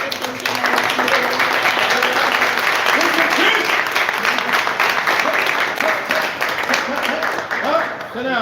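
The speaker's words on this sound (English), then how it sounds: "Let's give another clap for Assistant" Loud, sustained audience clapping fills the room at a community peace summit, with voices calling out and chattering underneath.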